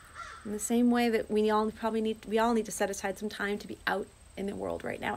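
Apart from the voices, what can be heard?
crow cawing outdoors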